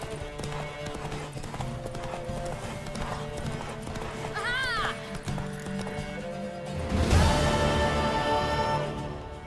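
Rhythmic hoofbeats of a galloping horse in The Witcher 3 video game under a spoken voice, with a horse whinnying midway and the galloping growing louder toward the end.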